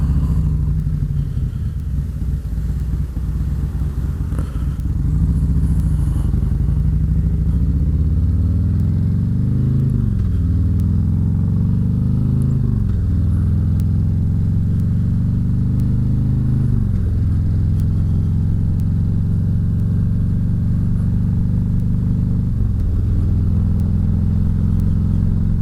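A motorcycle engine runs loud and close with a steady low rumble, punctuated by several gear-shift-like dips and rises in pitch as it revs and rides on.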